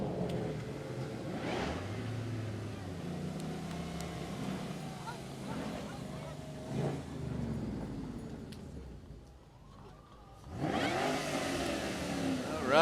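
Ford Mustang muscle cars in a Veterans Day parade rumble and rev their engines, passing with rising and falling roars, some nearby and some more distant, amid crowd noise and talk.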